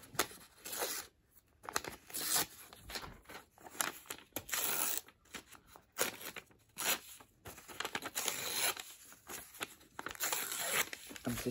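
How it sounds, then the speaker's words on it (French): Sheet of paper having its edge cut or torn off by hand, a close, rustling series of crinkling and tearing bursts with short pauses between them. "Le papier, on coupe le bord."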